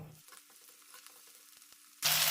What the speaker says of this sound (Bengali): এটা একটু লালচে করে ভেজে তুলে নেব